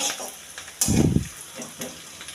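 Chicken for a palak chicken curry fries in a pan, giving a short, fairly close burst of sizzling and stirring that rises, peaks for about half a second and fades back into faint kitchen hiss.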